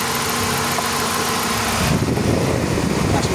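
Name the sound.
car engine idling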